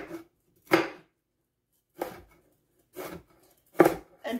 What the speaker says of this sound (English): And then I'll julienne this.